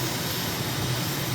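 A light aircraft in Microsoft Flight Simulator climbs out just after takeoff, its engine a steady, even drone that fills the whole moment with no break.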